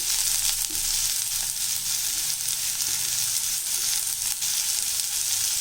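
Chopped onion, curry leaves and grated carrot sautéing in a pan for a wheat-flour dish, a constant near sizzle with occasional spatula scrapes and stirs, no talking.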